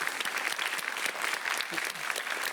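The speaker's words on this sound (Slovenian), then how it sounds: "En aplavz torej za osnovno šolo Videm podružnica Leskovec." An audience applauds a primary school team at a quick cup-stacking game, with brisk, dense clapping that stays steady and fairly close for the whole moment, with no talking over it.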